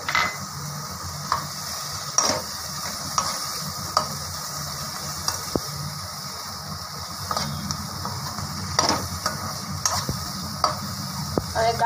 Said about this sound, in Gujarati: હવે થોડી પાલક નાખીશું, પુદીનાના પાન નાખીશું 3-4,